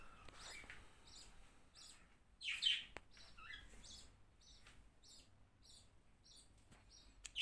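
Budgerigars chirp and tweet in their cage while feeding, giving short, scattered high calls at low volume with a louder burst near the end.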